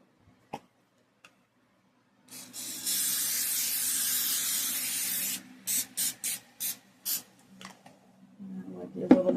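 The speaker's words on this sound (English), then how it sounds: "So we're going to spray it with olive oil spray." A long hiss of olive oil cooking spray onto a pan, followed by several short quick bursts, close by, with a few faint taps before and a clatter at the end.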